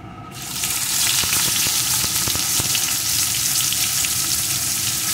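Chopped onion dropped into hot oil with whole cumin seeds, bursting into a loud, dense, continuous sizzle after a quiet start, with scattered crackles and no talking.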